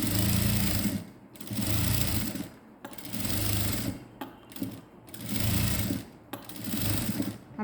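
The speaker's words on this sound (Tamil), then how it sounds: "அப்படியே இழுத்து பிடிக்காமல் ஒரு தையல் லைனாக போட்டுட்டே வாங்க" A sewing machine stitches a seam on a skirt made from an old silk saree, running in five or six loud, close bursts of about a second each, separated by short pauses.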